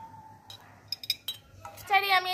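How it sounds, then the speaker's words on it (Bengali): Green chilli pickle spooned into a clean, dry glass jar: a few light clicks and clinks of spoon on glass, followed by a brief brighter rattle, with a voice talking alongside. "তো এই বয়ামের মধ্যে এবার প্রথমে এই আচারটা ঢুকিয়ে নেব"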